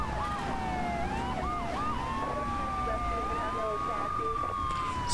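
Police sirens in the video game GTA III wail and yelp continuously, several overlapping, with pitch sweeping up and down over steady engine rumble.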